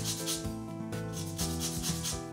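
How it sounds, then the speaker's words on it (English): Lemon skin grated lightly against a zester to take off only the top layer of peel, a steady close scraping rub with rhythmic strokes, alone without talk. "You only want to get the top layer out of the skin of the lemon, so don't put too much pressure"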